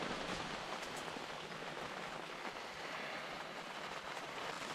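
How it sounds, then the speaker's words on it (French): Steady rain falling at a morning camp, a dense continuous patter on surfaces that stays even and fairly loud throughout, with no voices. "Il pleut ce matin."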